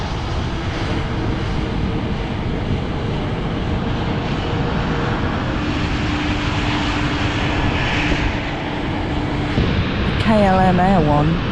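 A KLM jet takes off from the runway at London City Airport, a sustained broad engine roar heard from a distance that builds slightly over time, with a person talking briefly near the end.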